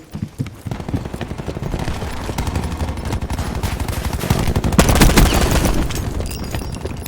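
Rapid bursts of video-game gunfire rattle continuously at close range, dense and loud, swelling toward the end with heavy overlapping shots.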